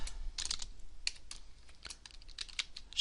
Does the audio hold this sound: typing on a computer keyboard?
yes